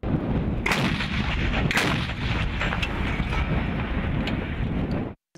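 Military artillery cannon fire during a training exercise, loud outdoors, with a few sharp blasts over continuous heavy rumble and wind buffeting on the microphone, cutting off abruptly at the end.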